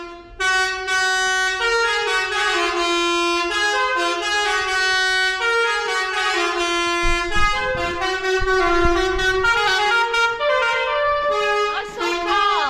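On a fenland farm, an air-powered multi-tone horn blares a long, continuous run of melodic honks, loud and sustained with shifting pitches, a faint rumble and voices underneath.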